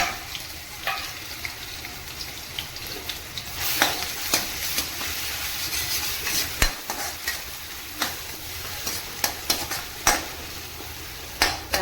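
Onions frying in oil in a pan with ginger-garlic paste and biryani masala, a steady soft sizzle under repeated sharp scrapes and taps of a spoon stirring against the pan.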